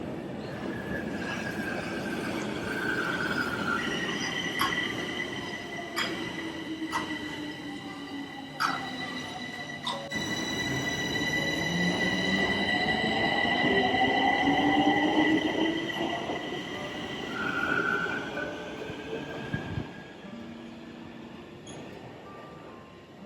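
A metro train runs at length with a steady rumble, and rising and falling electric motor whines and squealing wheels come through over the roar.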